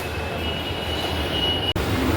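A steady rumble of a local train at a platform with a faint high-pitched whine, briefly cut by a sharp break before the hum resumes.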